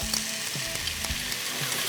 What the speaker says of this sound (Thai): ทุกอย่างพร้อมแล้วลงกระทะพร้อมกันได้เลยครับ